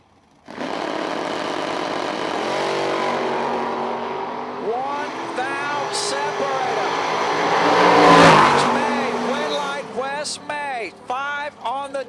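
A Buick Regal drag car launches at US 131 Motorsports Park during bracket racing, its engine roaring loud and steady for about twelve seconds, swelling near the end, with voices talking over it.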